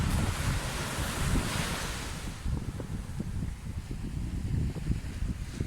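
Waves wash onto a beach in a steady roar, with gusts of wind buffeting the microphone and softer surges as water retreats.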